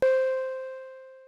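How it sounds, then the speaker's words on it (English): A single sampled flute note starts abruptly and holds one steady pitch, fading gradually over about a second. "I've got a flute note that I just dragged in from the browser"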